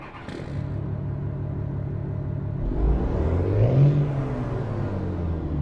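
A Ram truck engine in American Truck Simulator cranks and fires up, settling into a deep, steady idle rumble that swells briefly as it catches, loud and close with no voices.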